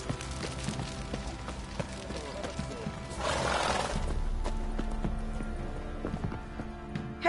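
Horses in The Witcher 3 video game, hooves clip-clopping and a whinny heard among game ambience, with a louder burst of noise midway and faint speech-like sounds in the background.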